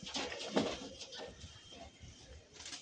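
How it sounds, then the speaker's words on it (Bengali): Soft, low cooing of male pigeons murmurs nearby amid faint rustling and background noise, with one fuller coo standing out early. "এই একটা লালচিরিয়া পায়রা আছে, নর পায়রা"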